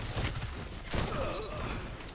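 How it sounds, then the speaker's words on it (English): Shotgun battle gunfire in a first-person shooter, rapid bursts of shots at moderate level with a sharper blast near the middle, against busy background combat noise. "We have two guys in a shotgun battle there."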